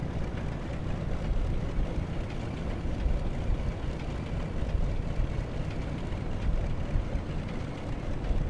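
Piston engines of a Lockheed Constellation airliner in a flight simulator game run with a steady, rumbling drone, a low, continuous roar at moderate level with no voices.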